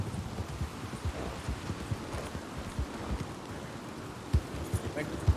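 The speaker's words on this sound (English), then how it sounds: "the horse apparently is very good at leaping, except for that rock" Horse galloping in Red Dead Redemption 2, rapid rhythmic hoofbeats thudding steadily over ground with a few heavier thumps near the end, close and moderately loud against faint wind-like background.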